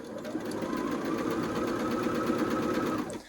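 A sewing machine stitches a quilt seam on a Carpenters Wheel and Stars quilt, running in a steady, continuous whir for about three seconds and then stopping abruptly.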